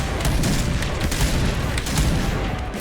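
Sniper rifle shots in the Point Blank video game, a shooter, come as a rapid series of sharp, loud cracks over a constant rumbling din of battle, with no voices on top.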